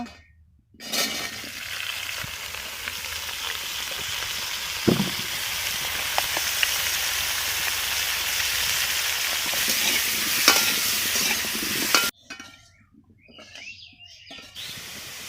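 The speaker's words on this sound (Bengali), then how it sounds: "কেটে রাখা আলুগুলো নুন হলুদ দিয়ে ভাজা করে নেব।" Cut potatoes seasoned with salt and turmeric fry in hot oil with a loud, steady, close sizzle and occasional stirring that runs for about eleven seconds before stopping abruptly.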